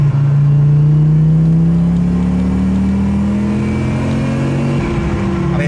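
An Audi Sportquattro engine pulls hard in third gear from inside the car, its tone rising steadily and loudly with no talk over it.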